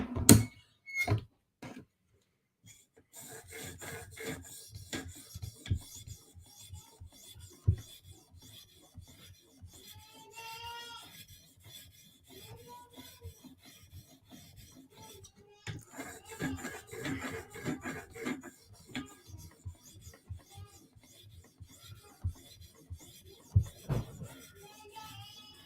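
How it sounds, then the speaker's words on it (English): A knife edge is drawn over a sharpening surface in quick passes, producing faint, repeated rasping rubs and scrapes with small clicks and pauses between strokes. "We don't want to remove the aggression of the edge too much, so I like to keep it just a quick pass or two."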